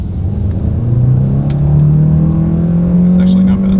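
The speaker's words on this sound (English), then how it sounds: "let's see how quickly we can get our new 2026 Sonata Hybrid here up to speed" A 2026 Hyundai Sonata Hybrid in sport driving mode accelerating from a rolling start, its engine note rising steadily in pitch as it pulls, loud and close from inside the cabin.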